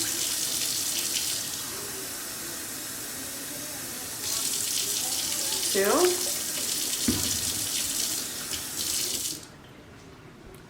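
Water running from a tap into a container while mixing homemade sanitizing wipes, a steady rushing stream that stops, restarts with splashing, then cuts off near the end, with a brief spoken word.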